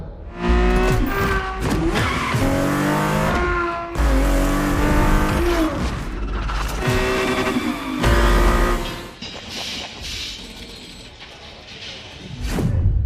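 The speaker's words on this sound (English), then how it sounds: "The Ferrari F50, a bridge between road and racetrack." A Ferrari F50 engine in the racing game The Crew Motorfest revs hard through repeated gear changes, rising and dropping in pitch, with tire squeal and skidding, loud and close throughout.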